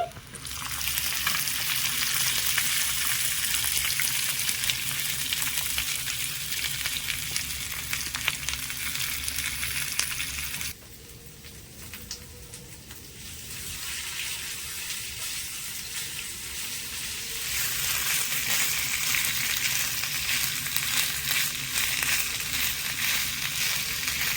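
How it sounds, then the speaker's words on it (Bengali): Potatoes frying in oil spiced with panch phoron, ginger, chilli and turmeric, a loud continuous sizzle that drops sharply for several seconds midway, then builds back up with stirring noises. "আলুগুলো দিয়ে দিচ্ছি"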